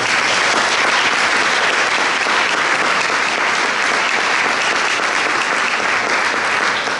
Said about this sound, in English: Can you please give these guys a huge round of applause?